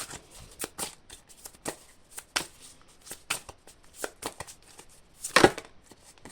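A deck of cards being shuffled with a steady series of crisp, close slaps and riffles, finishing with a louder snap as a single card is drawn.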